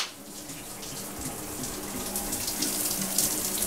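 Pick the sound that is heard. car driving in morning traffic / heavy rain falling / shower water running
shower water running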